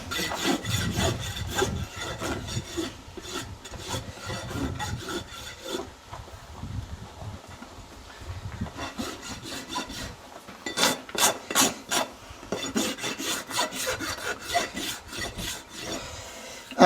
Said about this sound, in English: Now we dressed up the hoof.